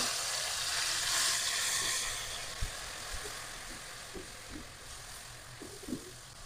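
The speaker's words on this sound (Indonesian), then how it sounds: "Sekarang kita mau goreng bumbu" Chili paste for a tomato sambal fries in a pan with a soft steady sizzle and a few faint clinks and taps against the cookware, quiet and continuous without speech.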